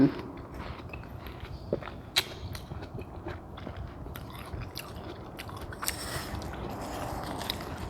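Someone biting into and chewing cold watermelon on a hot day, with soft crunchy bites and wet chewing at close range, a sharp crisp bite near two seconds, in a quiet outdoor setting.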